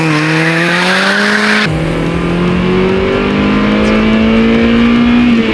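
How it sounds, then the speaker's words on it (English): Cabin sound from a repaired Honda car driving after a crash: a steady loud engine drone whose pitch rises as it accelerates, with a sudden shift partway through under constant road noise, and no clear separate clunk from the rear sway bar bushing. "It's still making this clunking noise, as you can hear"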